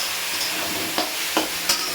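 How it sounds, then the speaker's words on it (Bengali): Cumin and chilli paste sautéed and stirred in a hot pan for a Bengali fish and banana-flower curry, a continuous close sizzle broken by three quick scraping stirs of the spatula. "সুন্দর করে এবার কষিয়ে নিচ্ছি"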